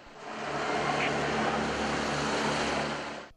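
A police helicopter flies overhead during a police operation, a loud, steady, rushing roar with a low drone that holds evenly for a few seconds and then cuts off.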